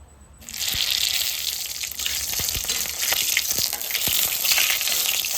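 Dried red chillies and radhuni spice hit hot oil, bursting into a sudden loud sizzle that then hisses and crackles steadily with small pops, no voices.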